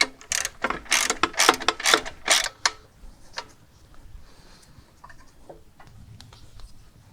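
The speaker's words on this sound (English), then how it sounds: "I'm going to go ahead and torque up these bolts." Ratchet wrench torquing the bash plate bolts on a Honda CRF300L Rally motorcycle, a run of sharp, close clicking bursts in quick rhythm that fades into quieter, sparse ticks and faint rustling.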